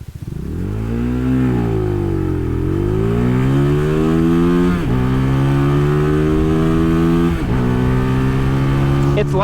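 A Venom 250cc motorcycle launches hard, its loud, buzzy engine revving up and climbing through several gear shifts, close to the rider.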